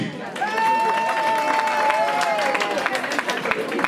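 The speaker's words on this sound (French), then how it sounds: "On applaudit pour lui." Applause from guests at a wedding dance party in Bordeaux, a dense patter of clapping that carries on under a sustained sung or hummed tone, with some crowd noise.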